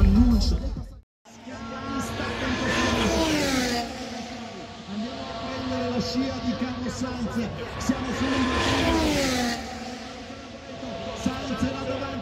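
Formula 2 cars racing at Monza during qualifying, engines rising and falling in pitch as they pass, with a steady roar and crowd noise under nearby talk.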